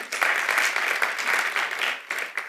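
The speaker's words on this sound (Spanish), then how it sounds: "Pueden aplaudir." A church congregation applauds at a Wednesday service, a dense wash of clapping that holds steady, dips briefly near the end, then picks back up.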